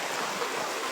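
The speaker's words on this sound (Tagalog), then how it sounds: "Sa lakas ng ulan guys, bumaha" Heavy rain pours down with a dense, continuous hiss during a flood, steady and loud throughout with no talk.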